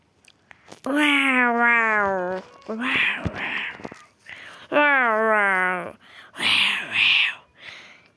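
A young person's voice imitates a cat, stretching out two drawn-out, wavering meows. Short spoken bits come between and after them.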